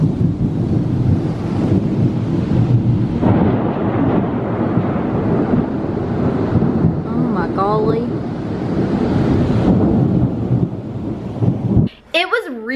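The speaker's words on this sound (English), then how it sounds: "there is a huge storm all of a sudden that just blew in" Strong wind from a sudden severe thunderstorm on the coast: loud, blustery gusts buffet the microphone in a continuous roar with rumbling undertones, easing briefly near the end.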